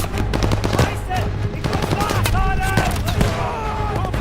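Video game combat with rapid bursts of machine gun fire over a steady rattling background, with shouted voices between the loud, close shots.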